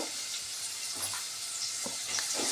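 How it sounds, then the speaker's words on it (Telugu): Onion pieces fry in a pan, a soft steady sizzle with a few faint stirring scrapes and no talking. "ఇక కొంచెం ఆనియన్స్ వేగా పెడితే ఆనియన్స్ వేగినాయండి"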